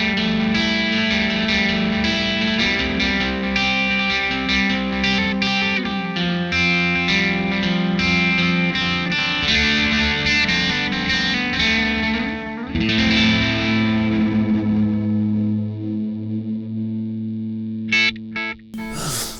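Electric guitar played through a NUX Atlantic delay and reverb pedal, loud sustained chords with echoing repeats forming a wash behind the notes, fading into a trailing tail before a few brief plucks at the end.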